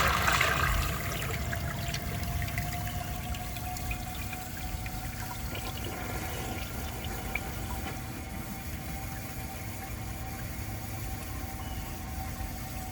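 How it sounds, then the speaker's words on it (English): A 1983 Crane Radcliffe toilet flushes from a dry bowl: a steady, close rush of water that starts loudest and then settles into an even, continuing wash for about thirteen seconds, with no voices. "For the first flush test, let's see how it flushes with a dry bowl."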